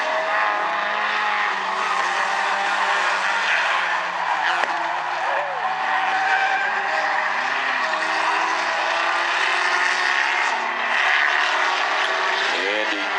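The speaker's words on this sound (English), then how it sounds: "The entry into that right-hander slid up the track, and Chris Brandon goes by." Stinger 8 race cars at South Sound Speedway, sliding through a right-hand turn during a heat race; continuous loud engine roar with tire scrub, steady throughout with a few passing pitch sweeps.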